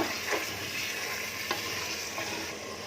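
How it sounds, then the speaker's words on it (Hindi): Cashew nut masala gravy with peas is roasted in a pan, a steady soft sizzle with a few faint scrapes of stirring, close and quiet, with no talking. "अब इसको 2 मिनट एक साथ भूनूंगी।"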